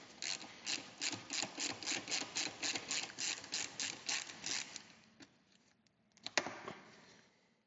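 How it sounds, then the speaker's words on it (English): Rapid rhythmic clicking of a ratchet tightening crash bar bolts on a CF Moto 800 MT-X motorcycle, a steady run of about fifteen bursts, then a pause and a few final clicks, close and alone. "we're going to tighten it just a little bit by hand, just to make sure it stays in place"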